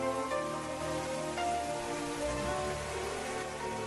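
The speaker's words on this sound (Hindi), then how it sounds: "आज की तरह उस दिन भी बारिश हो रही थी" Steady rain falling on a surface, a dense continuous patter with no voices, even and unbroken throughout.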